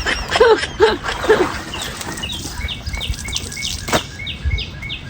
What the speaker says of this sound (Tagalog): Lakas ng amot ng ibon